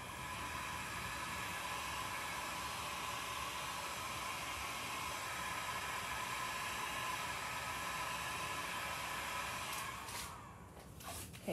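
A heat tool blows a steady hiss of hot air up close to activate a Woodubend wood appliqué on a buffet drawer. The airflow stays even throughout, then cuts off near the end.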